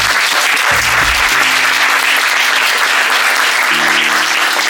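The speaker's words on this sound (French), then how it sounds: "Donc applaudissez pour vous." Steady, dense applause from a conference audience fills the room, with sustained tonal sounds underneath and no voice on top.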